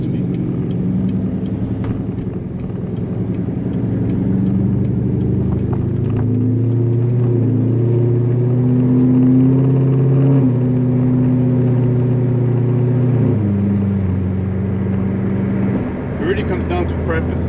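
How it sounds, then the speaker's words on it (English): A Corvette V8 fitted with headers, an X-pipe and an AWE track axle-back exhaust, with mufflers wide open, rumbles deep and steady throughout at close range, its pitch rising and then settling back near the end. "If you like the open mufflers and you like the big deep V8 sound"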